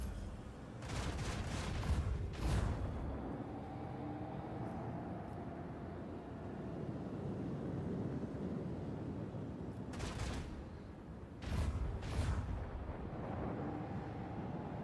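Torpedoes blown up in a space combat video game bring bursts of heavy booming explosions, a cluster early on and another pair near the end, over a continuous low rumbling battle drone.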